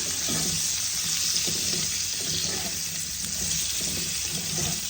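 Pointed gourd (potol) pieces frying in oil in a pan, a steady close sizzle that hisses on without a break, with faint stirring scrapes now and then and no talking.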